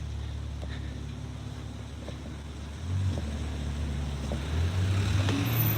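A sports car passes on a street near Shibuya, Tokyo: a low engine rumble swells about halfway through and stays loud and close over steady road and wind noise.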